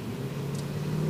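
Brief, steady growl of a Mercedes-AMG engine held under power on a track, a close, low tonal rumble that holds even throughout.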